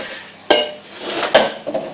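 Meat, 1.5 kg in all, goes into a large saucepan with olive oil for a lasagne bolognese, giving a few sharp metallic clanks and scrapes of utensil on pan, close and clear, with no talk.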